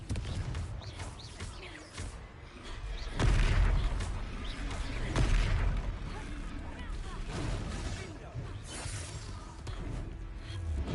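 Confringo blasting spells explode during a Hogwarts Legacy battle: crackling, shattering blasts with two heavier booms about two seconds apart, set in a constant roar of combat noise and faint voices.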